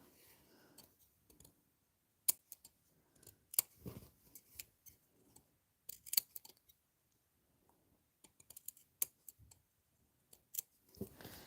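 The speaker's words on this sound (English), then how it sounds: "do a couple of snips" Sharp scissors snipping into velvet fabric for a Christmas cracker hat, a series of quick, close, crisp cuts in irregular clusters separated by brief quiet pauses.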